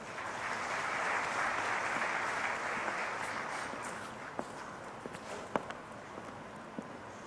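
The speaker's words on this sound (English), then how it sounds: "Please give a huge round of applause for Mr." A crowd at an evening talk at IIT Bombay applauds, dense clapping swelling then thinning, with a few sharp individual claps standing out as it fades.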